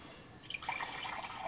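Water poured into a pitcher packed with ice cubes, starting after a brief quiet moment and continuing as a steady splashing trickle with light ice clinks, close and moderately soft.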